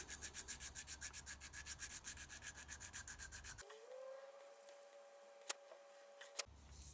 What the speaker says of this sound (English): with a little bit of emery just wrapped around the handle of my little file, just slowly cleaning it out